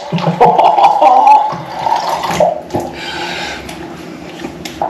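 Water rinsing soap off a dog during grooming, a loud, close rush of running water with splashing that eases slightly toward the end; no talking.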